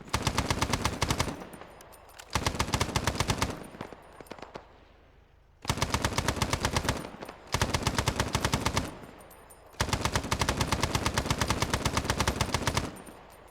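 Enemy automatic gunfire in the Vietnam War shooter SOG fires at allied AI units in long, loud sustained bursts separated by brief pauses, the rapid rattling shots repeating through the stretch.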